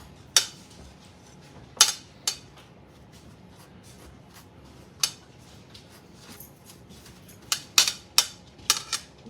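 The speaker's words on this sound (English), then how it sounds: "Let's put some butter on it." A knife spreading butter on a sourdough pancake on a plate: scattered sharp clicks and scrapes of metal against the plate, close and alone, with long quiet gaps between strokes.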